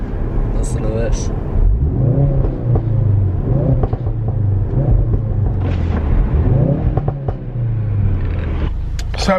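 A newly bought car's engine revs loudly and close by in several rising and falling surges, with a steady rumble between the pulls and people talking over it.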